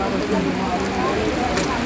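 Heavy rain pours down on a seashore as a steady, dense hiss of falling water, loud and close throughout without a break.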